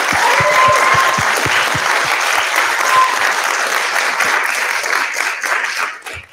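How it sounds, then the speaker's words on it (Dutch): A hall audience at a zine presentation applauds steadily and loudly for several seconds, dense clapping that gradually thins and fades toward the end. "Mag ik een groot applaus voor Welmoed Jonas."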